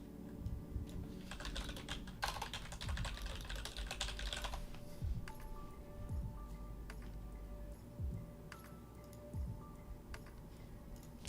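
Steady typing on a computer keyboard, dense rapid key clicks in uneven bursts, fairly close and quiet, with a few louder thumps of heavier keystrokes and no talking.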